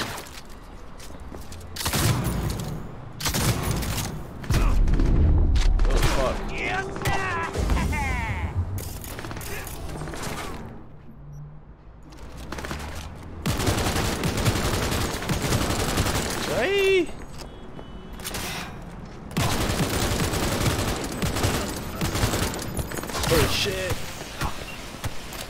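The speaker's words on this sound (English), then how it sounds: "Get my shotgun out." Shotgun blasts and surrounding gunfire in the video game Cyberpunk come as repeated loud, sharp bursts over a busy, constant combat din for the whole stretch, with a player talking at times.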